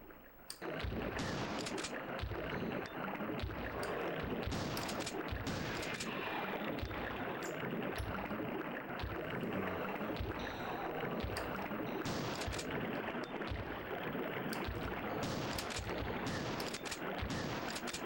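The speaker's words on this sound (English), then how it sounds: "Time for some shotgun action." Shotgun blasts in the video game Biohazard: Gun Survivor, a rapid run of sharp booming shots over a dense continuous game soundtrack, steady and loud throughout with no speech.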